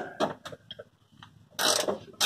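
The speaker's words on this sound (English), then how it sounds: "So we just reach in, get a 3/4 inch on them," A 3/4 inch wrench works on the camber bolts of a Mopar A-body, giving a few short close metallic clicks and ratcheting taps, then a louder scraping burst near the end.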